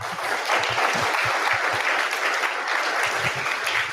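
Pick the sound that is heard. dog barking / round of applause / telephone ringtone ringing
round of applause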